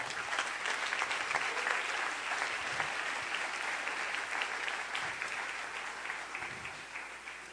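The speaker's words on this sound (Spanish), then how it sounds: "Denle un aplauso a nuestro Rey, por favor." A church congregation applauds at a Sunday service, sustained dense clapping from many hands filling the room for several seconds and fading slightly at the end.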